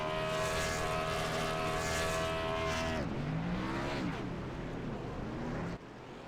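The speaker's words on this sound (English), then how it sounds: "Oh, I hear somebody's winding a car out." Race car engine winding out in the iRacing sim during a Gen6 race at Daytona, a loud sustained high rev that drops sharply then bursts again in rough, falling pitch sweeps, as if a car is leaving pit road.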